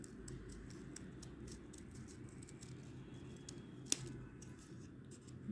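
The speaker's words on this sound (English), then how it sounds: "Just gonna cut that." Scissors snip through paper for a paper flower craft in a quick run of small, close, crisp cuts, with one sharper click near the end, set against a faint low background hum.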